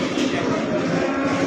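Cattle mooing at the Payakumbuh livestock market, where buffalo are also traded, heard within a dense, continuous wash of market noise that stays fairly loud throughout.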